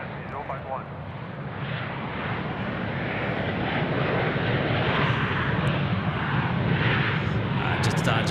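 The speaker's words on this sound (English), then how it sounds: "China Airlines, Dynasty 51, Taipei A350-900 just coming in 3-4 left" China Airlines Airbus A350-900 landing on runway 34 left at Sydney Airport, a loud, broad jet engine roar swelling steadily as it passes, with a voice talking over it.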